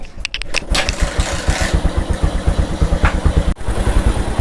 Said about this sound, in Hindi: अब बाइक को स्टार्ट करते हैं